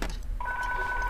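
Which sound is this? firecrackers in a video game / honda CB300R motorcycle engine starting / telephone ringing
telephone ringing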